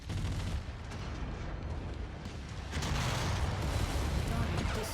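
A mech explodes in the MechWarrior 5 video game, a dense roar of blast and rumbling debris that swells louder partway through and keeps up steadily, with game voice chatter in the background.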